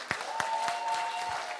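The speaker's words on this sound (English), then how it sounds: "Give them a big round of applause" Applause from a congregation at a Friday night service, a few distinct near claps over a soft wash of clapping with a faint steady tone underneath.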